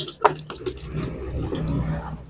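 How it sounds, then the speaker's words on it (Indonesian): Running water rinses a dirty stainless steel automotive air filter, a steady mid-level wash of flowing tap water with small splashes, near and continuous throughout. "Selanjutnya kita bilas ya teman-teman ya."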